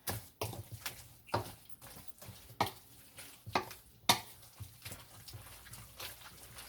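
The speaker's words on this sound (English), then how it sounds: "You mix it really thoroughly into a good mixture paste." A spoon stirs a thick cassava pone batter of cassava, pumpkin, coconut and milks, giving a series of soft, wet, irregular scrapes and knocks against the bowl at close range, fairly quiet, with no talk.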